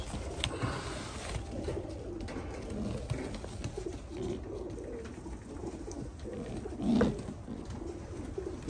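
Kakite pigeons coo softly and repeatedly at close range, with low rolling calls over a faint, steady background hum and one fuller coo near the end.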